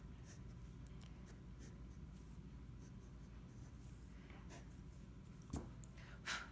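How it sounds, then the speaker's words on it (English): Pencil drawing light lines on paper while sketching cylinders, a continuous faint scratchy rasp of strokes, close and quiet, with a couple of sharper taps near the end and no talking. "I always like to draw lightly first, just in case I make a mistake"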